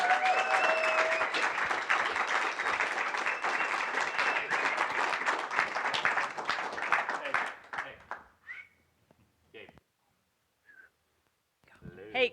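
Audience applause with whistles and cheering fills a hall at a company recognition event, sustained and loud for about seven seconds before fading into scattered claps and a few brief sounds.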